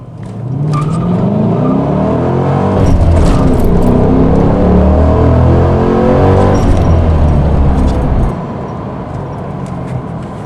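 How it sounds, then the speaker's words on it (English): A car launches hard from a standstill on stock tires during a 0 to 60 run at a track, engine roaring loud and rising through gears with some wheelspin, then dropping off abruptly near the end. "So I do want to test the 0 to 60 time while I'm out here."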